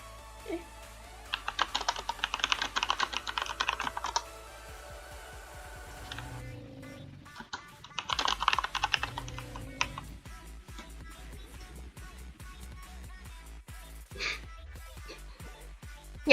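Rapid clacking of a mechanical computer keyboard set on a picnic table, coming in dense bursts of keystrokes with sparser taps between them, close and fairly loud, with faint background noise.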